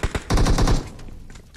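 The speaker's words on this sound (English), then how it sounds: "And you might see some gunfire now." Gunfire rattles in a competitive team shooter match: two sharp shots, then a close, loud burst of rapid automatic fire that trails off.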